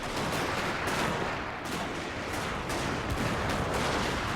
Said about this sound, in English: a lot of my units returning fire against my opponent